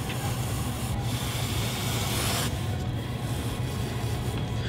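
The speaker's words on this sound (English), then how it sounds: "it really digs into the clay quickly" A trimming tool scrapes continuously across the bottom of a clay pot turning on a wheel, giving a steady, close, gritty rasp with a faint low hum underneath.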